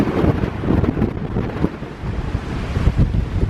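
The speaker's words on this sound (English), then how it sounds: "It is crazy windy." Strong wind buffets the microphone in heavy, continuous gusts, a loud rough roar with no one speaking.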